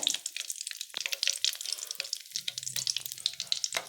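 Hot oil sizzles and crackles with sharp pops and spatters as spices, including a clove, are tempered, steady and close, no talking.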